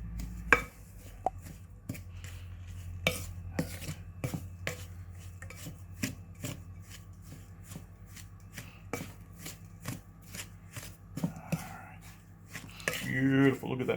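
Crumbly cookie dough flavored with lemon oil is mixed in a bowl in a community kitchen, with a series of sharp, regular knocks and scrapes and a louder clatter at the end.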